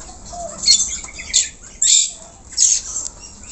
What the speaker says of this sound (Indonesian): Burung yang kedua adalah burung jalak kebo.